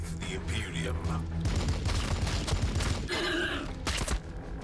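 Squad gunfire in the Warhammer 40,000 video game, Blood Angels mission: a dense volley of shots and bursts running steadily through the clip, loud and close, with voices and other game sounds mixed in.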